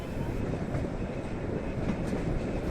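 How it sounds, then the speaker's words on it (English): A train passes on the single-track Bernina railway, heard as a loud, steady rumble of rolling wagons with faint clickety-clack, close by and continuous throughout. "we need to let a train coming down from the opposite direction pass us by"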